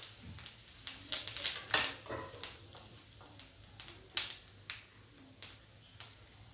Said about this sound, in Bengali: এই তেলেই দিয়ে দেব দুটো তেজপাতা